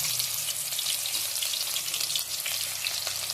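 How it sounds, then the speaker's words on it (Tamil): Marinated tuna pieces frying in hot coconut oil with curry leaves in a pan, a continuous bright sizzle and crackle, steady and close, with no talking. "நம்ம இப்போது ஃபிஷ்ஷு மேரினேட் பண்ணி வச்சுருக்கிறத ஒன்று ஒன்றா போட்டுக்கலாம்"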